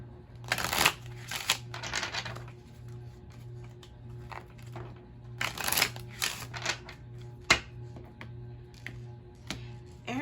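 Tarot cards being shuffled in bursts of rapid riffling flutters separated by softer pauses and light taps, close and quiet over a faint steady hum.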